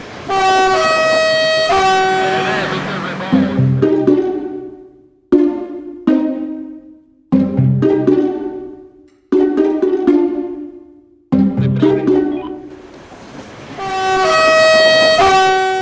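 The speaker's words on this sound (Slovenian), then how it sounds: "No in tam jih bo čakala hupa od tovorne lokomotive." A loud, sustained multi-tone horn from a freight locomotive blares near railway tracks, then repeats in several shorter blasts with pauses, ending in another long, drawn-out blast.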